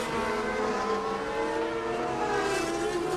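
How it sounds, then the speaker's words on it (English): A Courage sports prototype race car accelerates hard at Magny-Cours, its engine a loud, continuous roar with rising pitch throughout, close and steady. "the Courage accelerating on to a famous victory"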